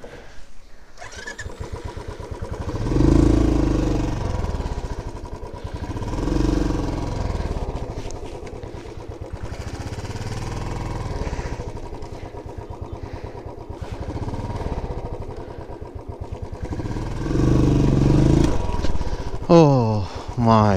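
A heavy motorcycle engine revs in repeated surges while riding a rough, dangerous forest route, loud and close, with voices speaking between the engine bursts.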